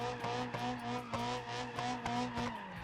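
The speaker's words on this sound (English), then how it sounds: "Oh, and it seems like they turned up the engine." A drift-model car engine in the BeamNG.drive driving game holds a loud, steady, buzzing rev, with rhythmic surges and sharp bursts for the whole stretch.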